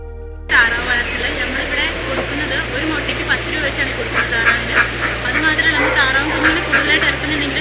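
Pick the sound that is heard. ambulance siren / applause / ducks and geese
ducks and geese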